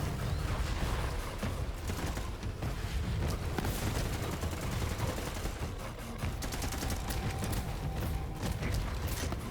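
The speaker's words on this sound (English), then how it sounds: "Using my good gun again since pistol ammo is starting to drop." Dense, continuous automatic gunfire with rapid mechanical clatter from a pistol and other weapons during a Mayhem 10 boss fight in Borderlands 3, loud and unbroken throughout.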